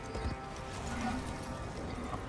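Horse hooves clip-clop steadily in Warframe: Duviri Paradox, a continuous game-audio gallop over a dense, busy background mix.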